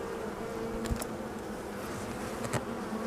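Honeybees from a weak colony buzz steadily around the hive entrance in a late-summer apiary, a continuous close hum with a few louder passes as individual bees fly near.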